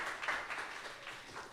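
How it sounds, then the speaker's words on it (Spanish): Brief, soft burst of audience applause after a talk, a short patter of clapping that fades within a second and a half. "un aplauso"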